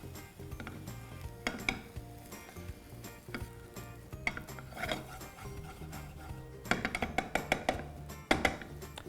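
Veg fried rice being tossed in a restaurant-style pan, with metal clanks and scraping from the utensil in irregular bursts that grow busier toward the end, heard over a steady low kitchen hum.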